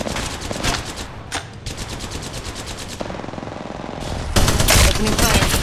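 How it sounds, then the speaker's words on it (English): Rapid automatic gunfire in the mobile battle-royale shooter Apex Legends Mobile: loud, close bursts of shots in quick succession, pausing briefly before another heavy volley near the end. "Opening fire. Getting shot at."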